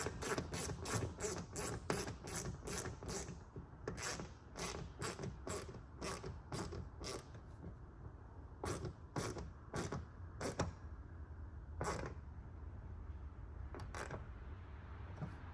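A ratchet snugs down the mounting bolt on an OEM LED clear-lens cab light on a 2017-2019 Ford Super Duty truck, giving a quick series of sharp, close clicks in bursts with short pauses between them.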